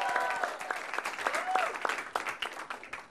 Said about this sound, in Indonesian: tepuk tangan buat Abdel